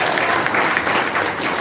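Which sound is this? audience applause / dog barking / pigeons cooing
audience applause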